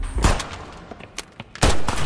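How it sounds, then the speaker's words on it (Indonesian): Gunfire in a crime thriller film scene, loud sharp blasts near the start and again near the end with scattered bangs between, heard without speech. "Jun malah menembak duluan dan..."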